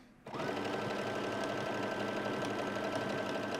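Sewing machine running steadily on its own as it stitches a buttonhole into jeans fabric, a close, continuous mechanical whir that starts abruptly and holds at an even level throughout.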